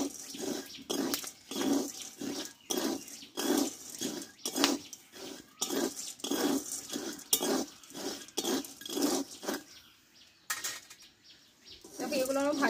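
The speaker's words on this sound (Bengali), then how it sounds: "আমি একই প্রসেসে ছোলাগুলো সব ভেজে নেব।" Chickpeas dry-roasting with salt in a pan over a gas flame, stirred in a steady rhythm of close, repeated scraping and rattling strokes that carry on throughout before a brief pause near the end.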